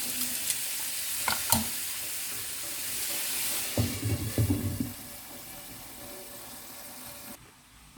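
Fish frying in hot oil for an Egyptian-style fish dish, giving a steady broadband sizzle with a few sharper crackles and stirring clatters in the middle, then quieting toward the end; no one speaks.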